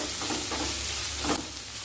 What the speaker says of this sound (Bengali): নেড়ে নেব সবজি ভাজার সময় কিন্তু স্টিমটা অতি অবশ্যই ফাইকে রাখবেন